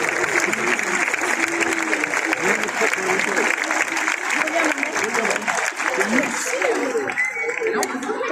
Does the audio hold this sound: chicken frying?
no